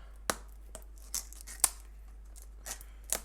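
Several sharp scissor snips cutting open sealed packaging come one at a time at uneven intervals, close and crisp against a quiet background.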